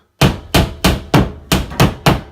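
A hammer taps wire closet shelf clips into a wall: seven sharp, evenly spaced strikes, loud and close, each ringing briefly before the next blow.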